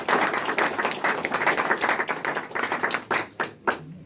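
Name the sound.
applause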